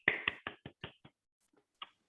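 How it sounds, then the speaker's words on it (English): Handful of sharp, separate claps at a virtual reception, about six quick hits in a row, then a pause and one last clap, close and fairly quiet. "A huge round of applause for everyone."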